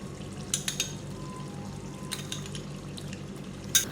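Masala goat liver with tomatoes and yogurt frying in a pan, a faint low sizzle under a few sharp scraping stirs and clinks of a utensil against the pan.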